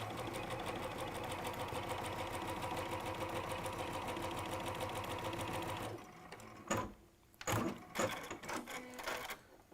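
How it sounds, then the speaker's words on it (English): A sewing machine runs quarter-inch seams along marked lines for half square triangles, a steady rapid needle chatter for several seconds, then stopping with a few brief clicks and handling noises. "we're sewing 1/4 inch either side of each of the lines"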